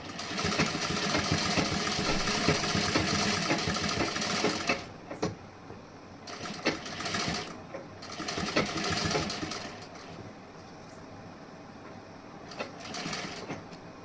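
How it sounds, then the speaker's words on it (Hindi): A sewing machine stitches along a blouse edge, running in a fast continuous whir for several seconds, then starting and stopping in shorter bursts with quiet gaps between. "ऐसे सीधा करके स्टिचिंग कर देनी है किनारे से"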